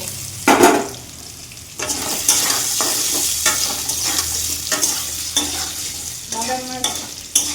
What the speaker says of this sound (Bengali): এখন আলুর সঙ্গে বাদামগুলিও একটু ভেজে নেব।